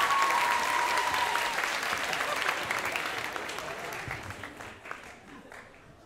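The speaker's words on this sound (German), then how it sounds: "Er würde sich über mehr Applaus freuen" A poetry slam audience at the Roxy in Ulm applauds the performer, a loud wash of clapping that starts strong and gradually dies away, with a voice faintly audible underneath.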